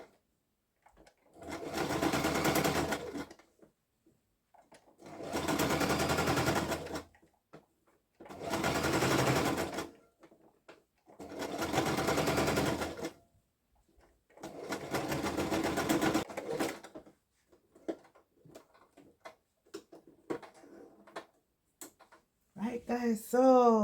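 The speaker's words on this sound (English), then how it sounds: "sewing it down on the right side now, so that the inside could lay flat" A sewing machine stitches a thick queen-to-king blanket in five even bursts of fast mechanical whirring, each a few seconds long with short pauses between, close and clear, followed by light handling clicks.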